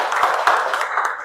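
Applause from the audience at a university lecturer certification session, a short burst of dense, even clapping filling the room.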